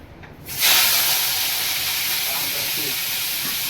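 Chili, onion and tomato hit hot oil in a home kitchen, setting off a sudden loud burst of hissing sizzle. The hiss then holds steady and bright until the end.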